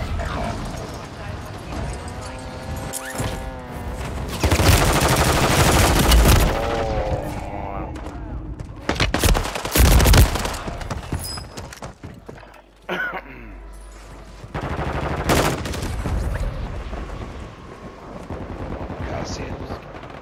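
Handgun fire at a monster in a video game, a mix of sharp shots and busy bursts scattered through a chaotic fight, with voices talking over much of it.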